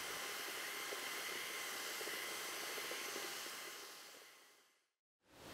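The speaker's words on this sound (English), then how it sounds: "then I'll get my electric paddle mixer to mix it to a nice liquid consistency" An electric paddle mixer churns tile primer into a liquid, a steady loud whirring hiss that runs evenly, then winds down and cuts out before briefly starting again.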